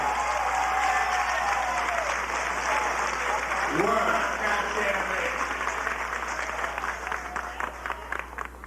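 Sustained audience applause fills a ballroom-style event after a voguing competition, a dense steady roar of clapping with crowd noise that holds strong throughout and thins slightly toward the end.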